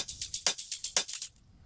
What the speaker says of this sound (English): Now the most complicated one is the dirty hats.